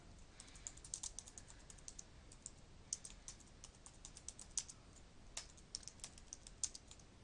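Soft, rapid keystrokes on a computer keyboard as a title is entered, close and quiet, in an uneven stream of clicks with no speech.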